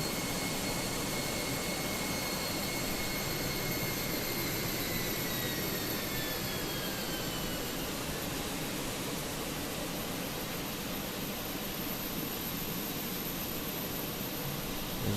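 The number 2 CFM engine of an EasyJet Airbus A320-200 spools up in a flight simulator, a loud, steady jet roar with whining tones that slowly shift in pitch, heard alone.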